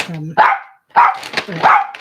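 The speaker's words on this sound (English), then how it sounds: "sorry about my dog." A dog barks three times in quick succession, close by, each bark sharp and loud with short pauses between.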